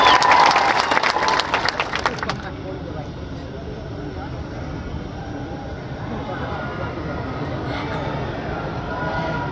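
A burst of crowd applause at an Aam Aadmi Party public rally in Dediapada claps loudly for about two seconds, then fades into a low murmuring crowd hum.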